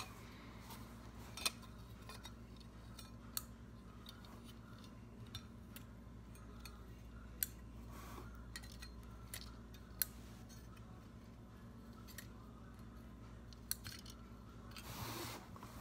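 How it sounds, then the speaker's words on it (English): A thermostat under test gives a few faint, isolated clicks spaced seconds apart over a low steady hum, with no talking. "This thermostat, I don't know if you got it, but it's actually clicking."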